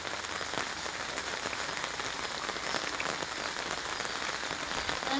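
Steady rain pours down onto a surface, a dense, even patter with no voices, continuous throughout.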